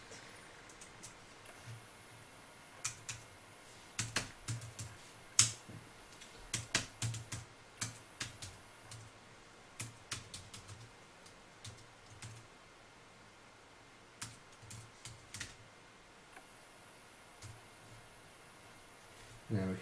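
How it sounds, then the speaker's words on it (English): Typing on a Freedom Pro keyboard, with irregular bursts of light, close key clicks that come in clusters and pause between them, under a quiet background hiss. "as you can see it's just like typing on a laptop keyboard"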